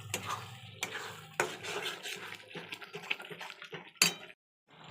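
Meat going into a pan and being stirred, with a run of close scraping and clattering utensil knocks against the cookware, a brief sizzle, then a sudden sharp clank before a short silence.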